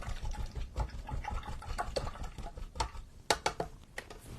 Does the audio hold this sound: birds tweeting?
no